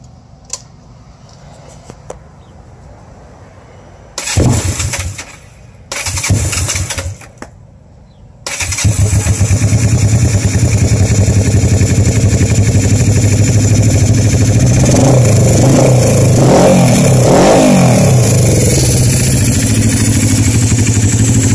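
A 1979 Yamaha XS400 cafe racer motorcycle cranks in a couple of short bursts, then fires and settles into a loud, steady running idle that swells with a few blips of throttle, close and alone.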